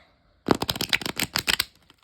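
A deck of 45 thin, glossy oracle cards shuffled once, producing a quick riffling flutter of rapid card snaps lasting just over a second, close and crisp after a moment of silence.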